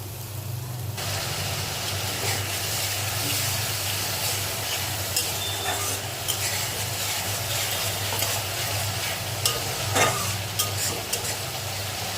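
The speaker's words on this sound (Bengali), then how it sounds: "ভালো করে মশলাটা কষে নেব" Spice masala for dhokar dalna being stirred and fried in a pan: a constant close sizzle with scattered spatula scrapes and occasional sharper clinks over a low steady hum, no speech.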